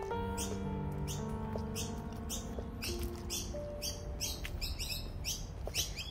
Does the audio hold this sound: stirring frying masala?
no